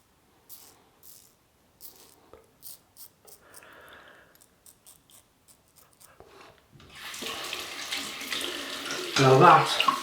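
Whiskers are rinsed off a Merkur Progress 500 adjustable double-edge razor under a running tap. Faint scattered taps and clicks come first, then a steady close rush of water starts and grows louder toward the end.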